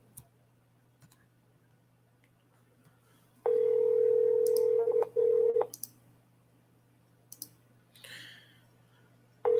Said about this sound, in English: Put it here on call tools and we'll start dialing.